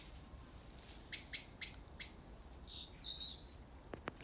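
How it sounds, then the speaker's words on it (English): A blackbird calls in a garden, giving a run of short, bright chirps and a few thin, higher notes over a quiet outdoor background, fairly close and clear. "There's another blackbird there."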